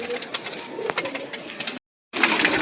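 Cooing of a rare Kolkata pigeon, a Chand Bhura Saddum breed, in steady close rolling coos, broken by a short silence before resuming loudly.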